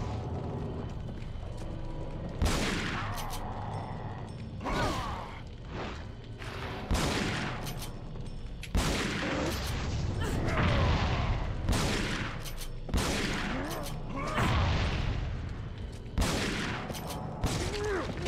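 Heavy gunfire from a Resident Evil 4 boss fight: dense bursts of shots and booms repeating throughout over a constant rumbling game backdrop, loud and close with no talking.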